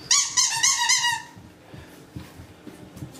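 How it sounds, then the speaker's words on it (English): Rapid, high-pitched squeaks from a squeaky dog toy being played with by French Bulldog puppies, several quick squeaks in a row up close, followed by softer rustling and small thumps. "That's squeaky."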